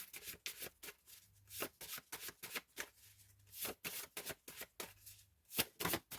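A deck of cards shuffled by hand in quick riffling bursts, close and crisp, with short pauses between shuffles and no speech over them.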